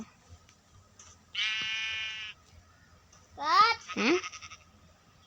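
Trapped sheep in Minecraft's Nether edition bleat twice: first a steady held bleat, then a pair of wavering, quavering bleats, all clear and close over a quiet background, with a voice nearby.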